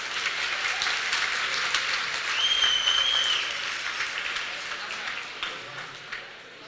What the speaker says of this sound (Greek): Αξίζουν πραγματικά το θερμό σας χειροκρότημα.